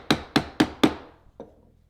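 Four sharp, evenly spaced chisel chops into wood, struck with a mallet along a marked line, ring out close and loud, followed after a short pause by a fainter fifth tap, with no talking.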